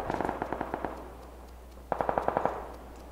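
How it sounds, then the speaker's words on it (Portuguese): Two bursts of rapid automatic gunfire in PUBG Lite, one before a short pause and one after, crisp and fairly distant, with a steady low hum underneath. "Estão trocando muito tiro aqui na frente."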